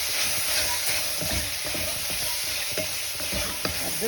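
Mutton sautéed in a pan with ginger garlic paste and chili powder, giving a steady close sizzle and frying hiss broken by repeated scraping stirs.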